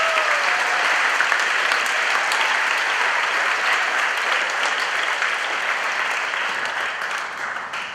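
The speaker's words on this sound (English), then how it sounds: "Can you give Megan a nice round of applause?" A live audience at a community gathering breaks into sustained applause, loud and dense from start to finish, tapering only slightly near the end with no talk over it.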